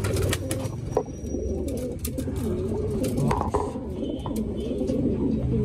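Pigeons coo softly and repeatedly nearby in a loft, likely imported birds, with scattered rustling and occasional flaps of wings in the background.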